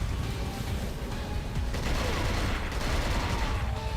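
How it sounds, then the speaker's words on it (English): Gunfire aimed at the player in the video game Cold Fear, a dense continuous barrage of shots under a constant noisy roar that holds steady throughout. "Oh, I'm getting shot at some more."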